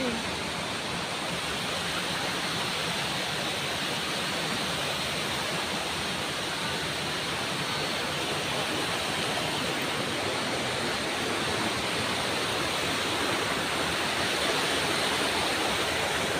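Steady broadband rush of a clean river flowing outdoors, a constant close wash of water holding even throughout with no pauses.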